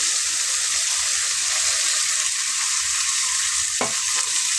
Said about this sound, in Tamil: அதில் நல்லா எண்ணெயிலேயே கொஞ்சம் வதங்கட்டும்.